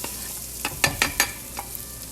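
Garlic hits a preheated pan, and a few quick sizzling bursts with stirring clatter sound close and fairly loud over a soft frying hiss.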